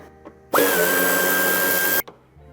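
A power screwdriver removes the upper screw of a 2015 Suzuki Vitara wheel arch, a loud steady whine lasting about a second and a half, close and alone.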